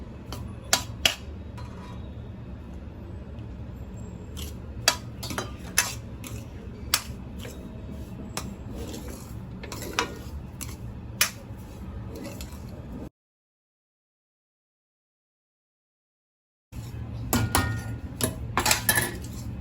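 Semolina and urad dal roasting in ghee in a pan, a spoon scraping and clinking against the metal in a steady irregular stir, with a brief silent gap before the clatter resumes.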